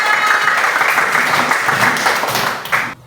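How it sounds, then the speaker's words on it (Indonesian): A classroom of students bursts into enthusiastic applause, dense rapid clapping that stays strong for nearly three seconds before cutting off abruptly, with some voices mixed in. "Kasih tepuk tangan untuk kita semua."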